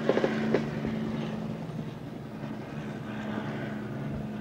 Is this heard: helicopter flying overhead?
yes